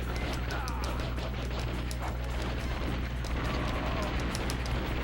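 Gunfire in the Dead to Rights video game: a dense, sustained barrage of rapid shots and blasts fills the clip without a break, loud and close, with voices faintly mixed in.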